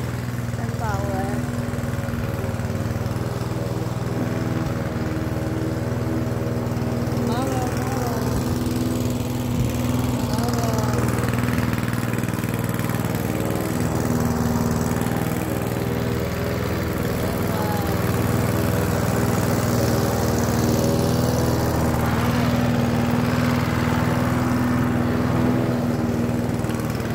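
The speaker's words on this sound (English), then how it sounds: "Mower kami ngayon kasi uminit." A lawn mower runs steadily in a backyard during warm weather, its engine droning loud and continuous throughout with faint voices underneath.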